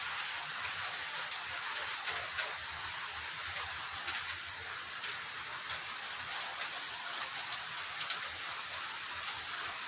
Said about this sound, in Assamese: এয়া বৰষুণ দি আছে, চাওক